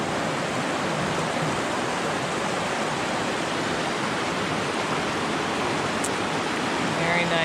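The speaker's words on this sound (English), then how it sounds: "This is the Little River." The Little River flows beside North Twin Trail as a steady, full rushing of water, continuous and fairly loud throughout with no pauses, with no talk over it.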